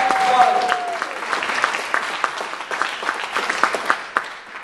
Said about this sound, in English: please clap it up for you guys